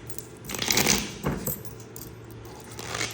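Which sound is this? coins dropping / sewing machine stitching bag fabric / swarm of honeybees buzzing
coins dropping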